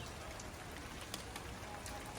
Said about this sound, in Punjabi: ਲੱਗਿਆ ਜੀ ਮੀਂਹ ਪੈਣ ਨਾਰਮਲ ਜਿਹਾ ਕੋਈ ਜ਼ਿਆਦਾ ਨਹੀਂ ਪੈ ਰਿਹਾ